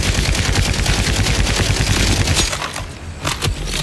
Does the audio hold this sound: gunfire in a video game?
yes